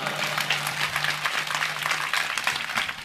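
A live audience at a Marathi comedy stage show claps loudly on request, a busy continuous patter of many hands that holds steady throughout.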